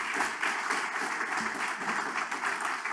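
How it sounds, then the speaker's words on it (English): Applause from an audience at the Big Irish Campfire honours Joan MacDonald, steady moderately loud clapping from a sizable crowd heard from some distance, continuing evenly. "So another round of applause for Joan MacDonald"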